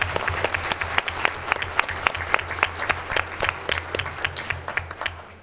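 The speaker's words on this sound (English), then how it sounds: "A big round of applause." Audience applause in a council meeting room, a steady patter of many hands with distinct individual claps standing out, sustained for several seconds over a low, constant hum before tapering off.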